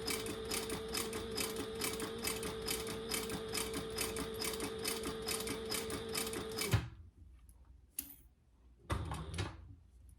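A sewing machine runs steadily and close up, top stitching a tote bag at a slow, even pace for about seven seconds, then stops, leaving a few brief handling clicks and rustles.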